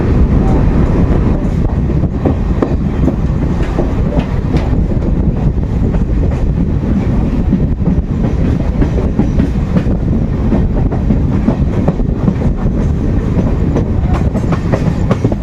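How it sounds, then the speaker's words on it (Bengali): A MEMU electric passenger train leaving Bankura Junction rumbles steadily along the tracks, with continuous loud rolling noise and faint clickety-clack from the wheels, plus some wind buffeting. "ছেড়ে দিল বাঁকুড়া জাংশন থেকে আমাদের মেমু প্যাসেঞ্জার মেমু প্যাসেঞ্জার নতুন ট্রেন"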